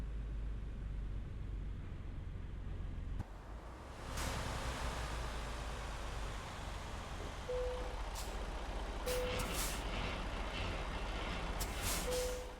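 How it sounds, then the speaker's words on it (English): Air brake hissing from a truck in American Truck Simulator, with bursts of release over a steady engine and road drone, while short reversing-style beeps come and go. "I was thinking I just did the emergency brake twice"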